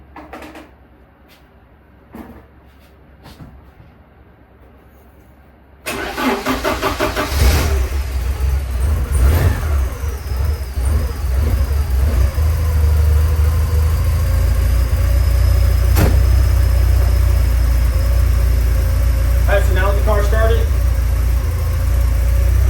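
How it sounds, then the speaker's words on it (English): A project car's engine cranks and catches after a few quiet clicks, then settles into a loud, steady close-up idle with slight revs, following a coolant fill. "So we're going to start her again."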